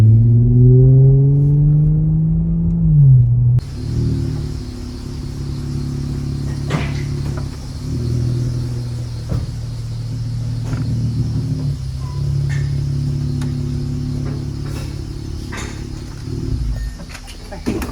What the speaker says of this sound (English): These Pentastars sound like garbage when they're straight pipe.